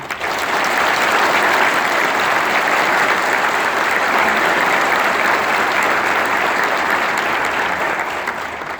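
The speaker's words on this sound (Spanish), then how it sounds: "Para ellos pido un caluroso aplauso." Sustained, dense applause from a university audience at a rector's address, loud and steady throughout with no talk over it.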